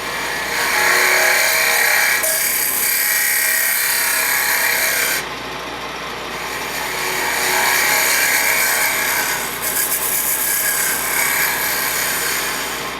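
A woodturning lathe tool scrapes the end grain of a spinning wooden box top to dome it, a steady loud rasping hiss with rising and falling pressure throughout, with no speech.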